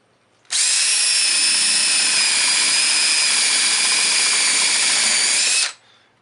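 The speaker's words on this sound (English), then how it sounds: "This is my Makita with a 5/8 inch bit" A Makita drill fitted with a 5/8 inch bit boring into soft basswood, a loud, steady high-pitched whine running about five seconds without talk before stopping abruptly.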